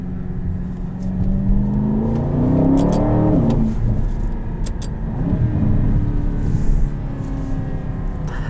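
A 2021 Aston Martin DBX SUV engine revs to 4,000 RPM, a loud close rising roar that peaks and falls away, then settles into a steady rumbling idle.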